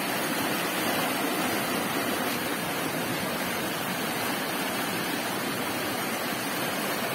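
High, fast river water rushing and breaking over rocks on the Rio da Caixa in southwest Bahia, a dense steady roar filling the whole stretch with no voices.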